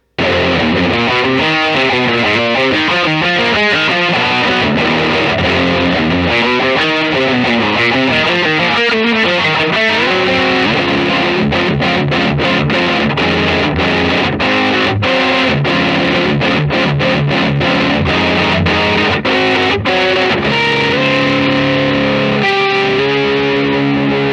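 A 1987 Gibson US-1 electric guitar plays through a heavily distorted tone, loud and continuous, with chugging chords and rapid riffs filling the passage and no voices.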